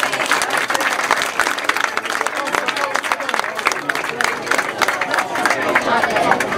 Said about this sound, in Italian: E adesso ci vuole l'applauso.